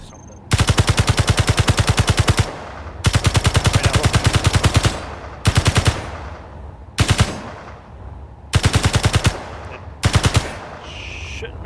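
Rifle fire in the video game Space Engineers: loud, rapid automatic bursts of gunshots, six separate volleys of varying length with short silent gaps between them.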